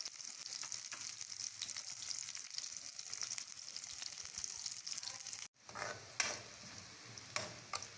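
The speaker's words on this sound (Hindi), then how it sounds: "ये देखिए हमारी प्याज ब्राउन हो रही है।" Onions sizzling and browning in a pan while cooking green chili qeema, a steady dense frying hiss that breaks off briefly midway and resumes with a few stir clatters.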